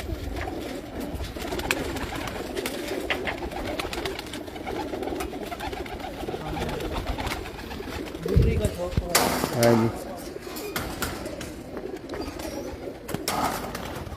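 Household rooftop pigeons in Hafizabad coo and flutter amid steady background noise, with a louder cluster of calls partway through and brief talk nearby.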